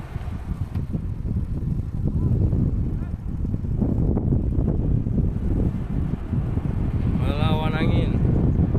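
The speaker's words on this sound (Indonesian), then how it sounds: "Wow, melawan angin." Strong wind buffets the microphone on a beach while a Rox X9 drone flies, a loud continuous low roar filling the whole stretch, with a voice briefly rising near the end.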